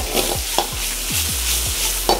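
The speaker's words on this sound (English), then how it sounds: "And then we're gonna go ahead and throw in our shallots." Shallots hitting very hot oil with truffle ham in a pan, an intense close sizzle broken by repeated spoon or spatula strokes in a quick irregular rhythm, no voices.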